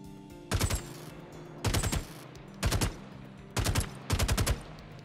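An unsilenced gun firing in Star Citizen, five short, loud bursts of rapid shots spaced about a second apart, close and sharp against a low background hum.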